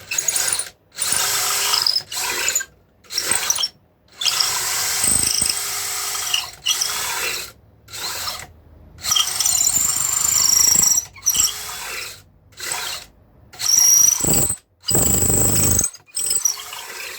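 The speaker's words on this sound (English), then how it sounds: "just take little cuts and pull the drill out to clear the debris out" A power drill whirs in repeated short bursts with brief silent pauses between, boring a large-diameter hole through a resin guitar top with a high grinding whine, close up.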